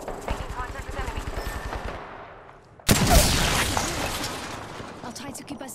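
Rapid gunfire bursts in the shooter game Apex Legends, a fast rattling volley that fades, then a sharp loud blast followed by dense noisy shooting; voices can be heard talking over parts of it.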